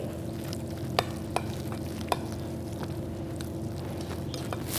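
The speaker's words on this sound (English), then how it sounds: "We'll add some more cheese and mix well." Spinach and corn stuffing being mixed with processed cheese in a bowl, giving a steady soft wet stirring texture with a few sharp clicks of the spoon against the bowl, close up and with no talk.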